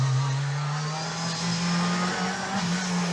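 A Group B rally car engine drones at a high, steady pitch as it passes, loud and continuous with a slight shift in tone.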